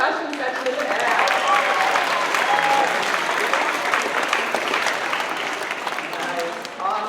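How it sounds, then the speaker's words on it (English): Audience at a spring school concert applauds the percussion section, a dense, sustained round of clapping that stays steady and fairly loud for several seconds before easing slightly near the end. "So will you give me a round of applause for our awesome percussion section in the back?"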